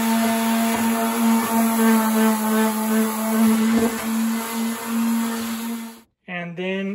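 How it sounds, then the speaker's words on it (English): A handheld pad sander scuffs a kitchen cabinet ahead of priming, giving a loud, steady electric whine with a strong hum. It runs without a break for about six seconds, then cuts off abruptly, and a voice follows. "I just have this pad sander right there. And then I'm gonna sand it."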